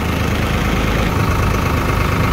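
A 55 hp tractor engine idles steadily at about 1000 RPM, a constant low mechanical rumble with a faint vibrating hum, close by and unbroken, with no voices.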